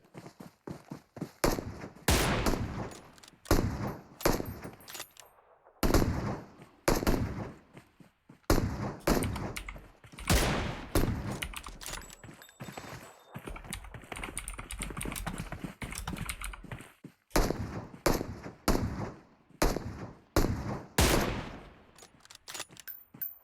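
Gunfire in the mobile battle royale PUBG Mobile during a league finals match, with repeated bursts of sharp shots in clusters and a few quieter gaps between volleys, loud and close.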